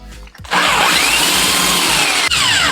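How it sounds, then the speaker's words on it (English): A corded power drill bores through a wooden door, a loud steady whine that starts abruptly after a short pause and runs continuously with a brief dip near the end. "I'm want to switch over to this corded drill because my old DeWalt drill is probably about shot there."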